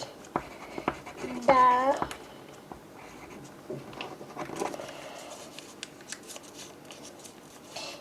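Pen writing a name on a small card for a giveaway draw, faint scratchy strokes over a quiet room, briefly covered by a voice speaking near the start.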